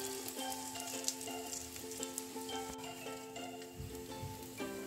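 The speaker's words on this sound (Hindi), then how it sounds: "ये हमें शैलो फ्राई करना है" Semolina egg toast shallow frying in a pan of hot oil gives a steady, even sizzle that runs the whole time, close and moderately loud, with a few faint clinks.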